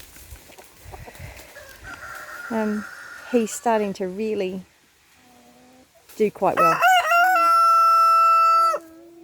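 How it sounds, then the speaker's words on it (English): A young rooster named Chicken Hawk crows several times, the calls rising and ending in a long, loud sustained note, with someone speaking briefly before the crowing and quieter farmyard sounds around. "Chicken Hawk has found his crow."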